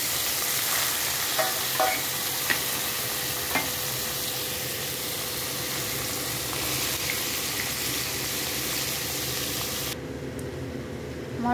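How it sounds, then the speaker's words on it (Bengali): Whole spices tempering in hot oil for vegetable fried rice give a steady, close sizzling hiss with a few scattered pops, running continuously for several seconds with no one speaking. "এবার আমি তেলের মধ্যে ফোড়নগুলো আস্তে আস্তে দিয়ে দেবো।"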